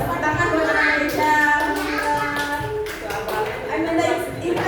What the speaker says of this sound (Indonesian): Tepuk tangan buat anak Indonesia